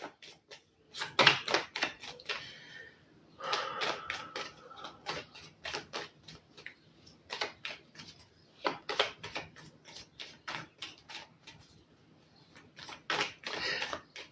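A deck of tarot cards is shuffled by hand at close range, giving quick bursts of crisp, papery clicking and flicking separated by short pauses.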